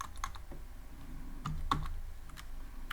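Keys click on a computer keyboard in a short, irregular burst of typing, close and fairly quiet, with no talk.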